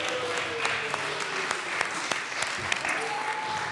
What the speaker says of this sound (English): We should all give Representative Pabon a huge round of applause.